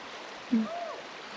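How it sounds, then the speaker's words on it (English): A shallow stretch of river flows in a steady, soft hiss of running water, briefly interrupted by a short voice-like sound partway through. "it's basically just a shallow part of the river"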